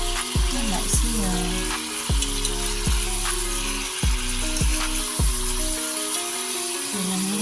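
Beef rouladen browning in a frying pan makes a constant close sizzle, with a repeating series of low thumps and tonal sweeps laid over it at a steady pace.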